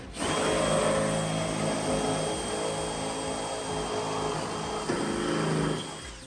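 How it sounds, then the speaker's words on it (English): A power drill whines steadily for several seconds as it bores up through the seam of two pontoon deck boards, loud and close, then winds down at the end. "I'm gonna drill right up from the bottom"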